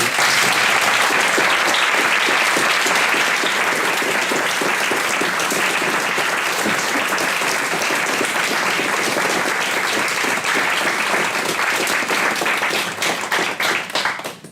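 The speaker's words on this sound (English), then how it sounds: "if you would join me in giving a round of applause to" Audience at a poetry reading gives a sustained round of applause, dense clapping from many hands at full strength for over ten seconds before thinning out and fading at the end.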